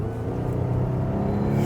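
A Volvo S90 T8 saloon pulls hard under full throttle, its engine drone rising steadily and staying loud and close for the whole stretch, with no talking.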